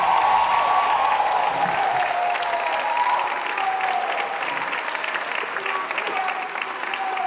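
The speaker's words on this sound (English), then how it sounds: "She's gotten the biggest applause in this whole event" An audience at a councilmember's inauguration event in Harlem gives steady, sustained applause, a dense wash of clapping that holds throughout with a voice faintly audible underneath.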